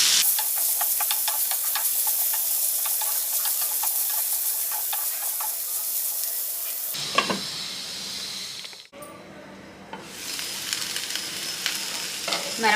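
Potato and cluster bean pieces with ginger garlic paste sizzle and fry steadily in a pan, a continuous loud crackle with stirring scrapes that turns harsher and more broken partway through, with a brief dropout near the end.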